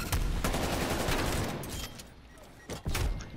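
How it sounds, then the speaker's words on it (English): Shotgun blasts in Call of Duty Black Ops Cold War during a Search and Destroy match, a few sharp loud bangs spaced apart, the first at the start and another pair near the end, with no voices. "Oh, yeah, the shotgun."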